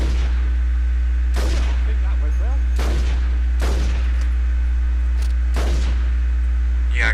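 Gunfire in the video game Saints Row 2: five sharp shots ring out at irregular intervals, loud and close, over a steady low game hum and background noise.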